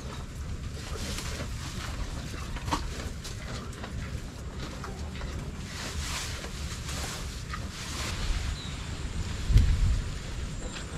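Steady monsoon rain around a village home in Ratnagiri, a continuous broadband wash, with a dull low rumble near the end that may be distant thunder.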